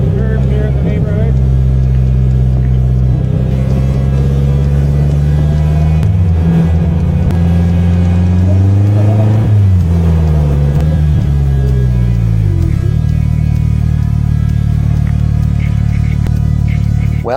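A Polaris Slingshot three-wheeler drives through curving neighborhood streets, its engine a loud, steady rumble that rises and dips in pitch as it takes the corners, with people talking over it.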